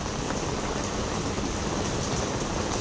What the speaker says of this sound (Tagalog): Pero ang lakas pa rin ng ulan.